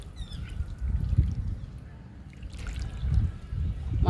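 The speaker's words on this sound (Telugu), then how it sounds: "కరివేపాకు మొక్కకి వాటిస్తున్నాను ఇస్తున్నాను" Curry leaf plant in a pot being watered for the first time after repotting, water trickling and splashing into soil in a low steady rumble with a couple of louder pulses, close by.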